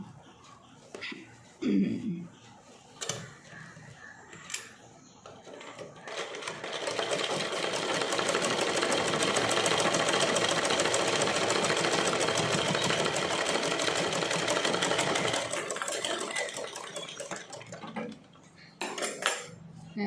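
Sewing machine stitching folded pleats on a pattu pavada, running in one long steady whir for about eight seconds, with short bursts and handling clatter before and after.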